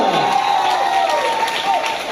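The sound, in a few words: audience applause and cheering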